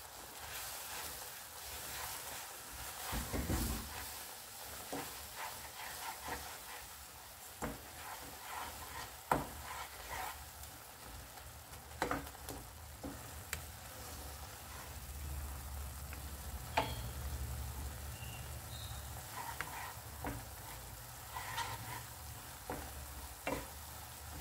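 Desiccated coconut is roasted on low flame in a pan for coconut burfi, with a steady soft sizzle and repeated scraping strokes of a spoon stirring it, quiet and close, with no talking.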